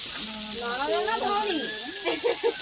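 Fish frying in a pan gives off a steady, bright sizzle that hisses continuously while a person talks over it.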